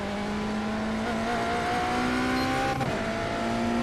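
A GT3 race car engine at high speed on the USA International circuit, with a steady loud drone and a sustained tonal whine, one brief shift or lift near the end, no talk.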